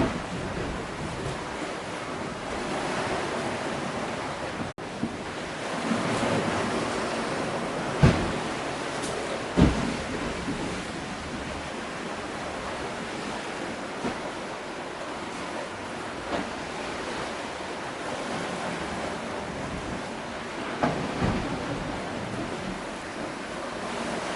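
Sailing at night with a 15-knot tailwind at about 5 knots on autopilot, with a continuous rush of waves and wind across the hull and occasional sharper splashes and gusts.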